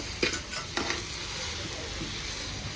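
Onions for a vegetable biryani fry in a pot over a wood-fired village stove, a steady soft sizzle with a couple of brief stirring clatters near the start.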